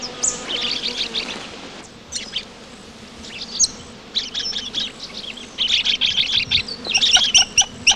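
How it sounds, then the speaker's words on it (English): Red-backed parrots splash-bathe in shallow water in Australia, a noisy flock giving bursts of shrill chirps and chatter that come and go, with softer splashing and rustle between the louder calls. "the red-backed parrots make a lot of noise as they splash bathe in the shallow water"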